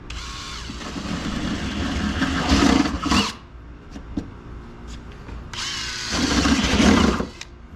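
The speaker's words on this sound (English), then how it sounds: "We're upsizing the 5 smaller holes on the fender." A power drill enlarges five small holes in a Bronco fender during a carbon fiber fender flare install, running in two loud whirring bursts of about three and two seconds, separated by a quieter pause with faint clicks.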